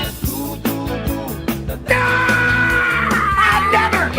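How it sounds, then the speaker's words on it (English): Played recording of a man's loud, drawn-out tribal scream rising over rhythmic background music, following shorter shouted bursts, harsh and close. "he did that scream one time, that tribal scream"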